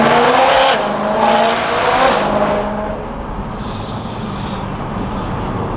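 A BMW E92 M3 with its V8 engine revs loud and close, a raw roaring blare that holds high, then drops to a lower steady drone with no talking.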